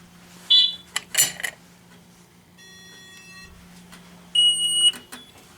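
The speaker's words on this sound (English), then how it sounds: "Fire alarm first stage," Building fire alarm system in first-stage alarm for a garage zone during a system test, giving short electronic beeps and tones in bursts, with a faint steady hum and clicking in the background; moderately quiet indoors.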